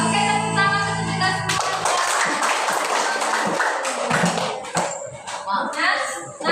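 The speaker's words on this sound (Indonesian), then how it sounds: "tepuk tangan untuk kita" After a brief burst of music, a group breaks into clapping, loose and uneven, with a few sharper claps and some clinking before it fades out.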